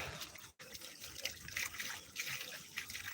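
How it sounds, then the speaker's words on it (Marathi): Floodwater from a stream overflowing near a village, flowing through a spillway, heard as a steady rushing trickle of water with a brief dropout early on, faint and distant. "त्या सांडवीतून येणार पाणी या ठिकाणी येतं"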